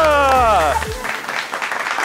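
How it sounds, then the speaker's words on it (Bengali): A live stage audience at a storytelling performance in Gobardanga breaks into applause that rises straight out of a brief tonal sound and continues as a dense, steady patter of clapping until the end. "তালিয়া।"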